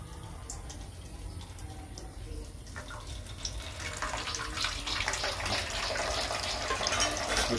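Water is poured steadily during a Shiva puja ritual, a continuous close splashing stream that grows slightly louder over the clip, with faint background voices and room noise.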